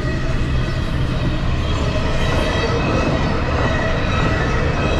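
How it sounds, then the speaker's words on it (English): A train rushes past at around 75 miles an hour, a dense and loud rumble of rails and wheels that holds steady throughout. "My guess is 75 miles an hour that train's going."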